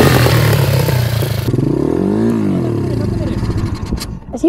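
A small motorcycle pulls away slowly as the clutch is eased out with light throttle, its engine note rising and falling close by while people talk over it.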